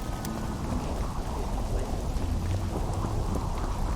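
Continuous rain and distant thunder in the video game The Witcher 2, an even hiss of falling drops over a low rumbling bed, steady and unbroken with no speech.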